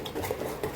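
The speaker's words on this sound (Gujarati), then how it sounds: "મસ્ત એને હલાવી લઈશું." Spoon stirring dhokla batter in a bowl, a few soft scraping clinks in quick succession, close and fairly quiet with no talk.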